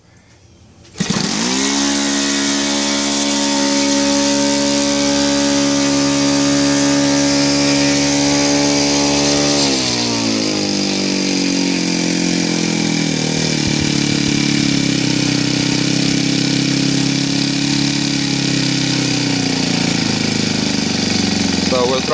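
Saito FA 125 four-stroke model aircraft engine with CDI ignition bursts into life and runs loudly and steadily, its strong harmonic drone shifting pitch around ten seconds as the throttle eases toward idle.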